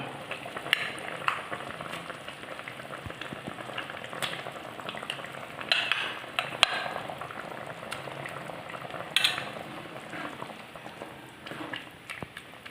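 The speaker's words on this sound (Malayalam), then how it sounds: "അരപ്പ് ഇതേ നമ്മൾ യോജിപ്പിക്കുകയാണ്" Masala paste being stirred into a bubbling prawn, jackfruit seed and raw mango curry, with a steady soft boil and sizzle and occasional faint scrapes of the spoon in the pot.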